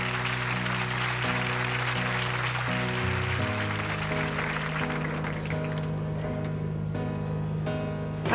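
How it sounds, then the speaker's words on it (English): A television studio audience in Bedworth, Warwickshire claps at the close of a political panel show, the applause fading out over several seconds as sustained tonal music continues underneath. "Applause."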